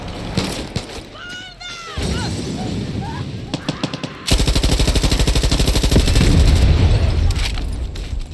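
Rapid automatic gunfire from a weapon in the video game Far Cry 6, a loud sustained burst of closely spaced shots in the second half, preceded by scattered shots and game effects with someone talking over it.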